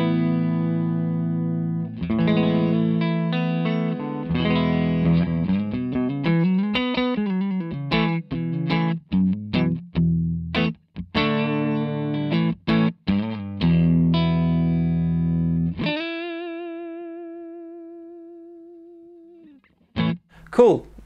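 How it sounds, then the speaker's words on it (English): Clean electric guitar, a Fidelity Guitars JB played on the neck pickup with no reverb or tremolo: close, dry sustained chords and picked single notes with pauses, then a long ringing chord fading out and a few final plucks. "My clean signal with no reverb, no tremolo sounds like this."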